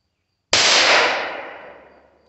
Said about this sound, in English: Shooting some 38 plus P now.